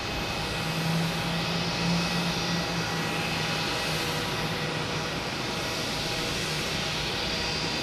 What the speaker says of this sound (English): The Spirit in front of us is making a bunch of noise